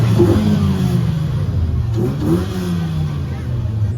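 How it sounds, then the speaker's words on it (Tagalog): A car with a loud Stinger aftermarket exhaust revs in a night rev battle, sharp throttle blips rising and falling twice over a droning engine, close and loud, with people talking underneath. "malakas ang tunog ng tambutso"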